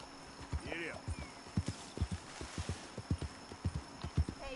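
A horse's hooves beat out a steady, rhythmic clip-clop in Red Dead Redemption, with a brief whinny early on and someone talking over the galloping.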